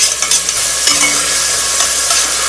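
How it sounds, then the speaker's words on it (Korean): Garlic stir-fried in a pan for clam vongole pasta gives a loud, close, constant sizzle with faint scrapes of stirring. No one talks. "불 켜고 마늘을 볶아야 됩니다. 잘 볶아줍니다."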